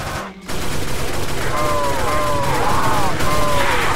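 Weapon fire in the Roblox zombie game Project Lazarus rattles as loud, rapid, continuous automatic bursts. Someone talks excitedly over the shooting.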